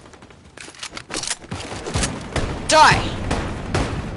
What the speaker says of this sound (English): There is someone shooting me.